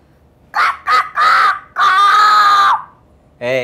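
A child imitates a rooster crowing, several short loud calls building into one long drawn-out crow, close and alone.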